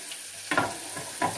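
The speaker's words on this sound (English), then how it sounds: "Now I can hear the butter sizzling" Butter sizzles and crackles quietly in a hot pan for saag paneer, with soft bursts of frying noise rising twice over a low background hiss.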